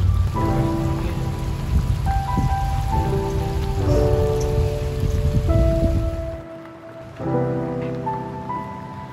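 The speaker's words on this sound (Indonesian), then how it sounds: "badai." Heavy tropical rainstorm on Pulau Klah island near Sabang, Aceh, Indonesia, a dense continuous roar of rain beating on surfaces, loud and close, briefly dropping away near the end before resuming, with a low tonal hum underneath.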